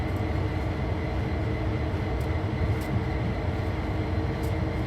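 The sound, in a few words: long container freight train passing, from a train video game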